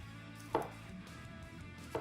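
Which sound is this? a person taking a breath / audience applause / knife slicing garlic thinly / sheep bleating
knife slicing garlic thinly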